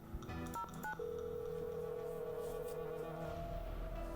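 Telephone keypad tones beep in quick succession, several short touch-tone presses followed by a longer sustained tone, clear and close against a faint background.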